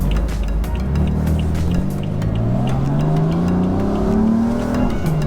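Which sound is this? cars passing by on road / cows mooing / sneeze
cars passing by on road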